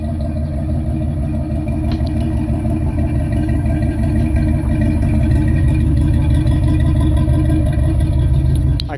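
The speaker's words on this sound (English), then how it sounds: "that's a pretty loud ass car" A loud, street-legal car exhaust running steadily with a deep, continuous engine rumble, close and sustained without a break.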